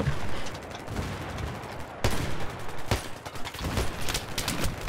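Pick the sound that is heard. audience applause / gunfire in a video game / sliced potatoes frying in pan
gunfire in a video game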